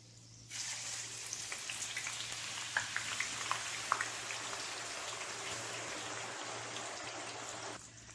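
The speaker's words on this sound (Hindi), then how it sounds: "प्याज को डीप फ्राई करने के लिए कढ़ाई में तेल गरम कर लें।" Sliced onions deep fry in hot oil in a kadhai while a chicken haleem is being made, a dense, even hiss and crackle that starts abruptly, stays loud and steady with small pops, then cuts off.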